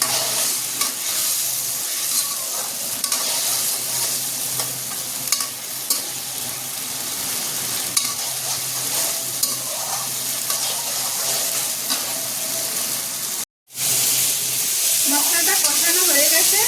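Hilsa fish with pumpkin and black cumin fries in oil, giving a loud, continuous sizzle with constant stirring scrapes and a brief cut in the middle.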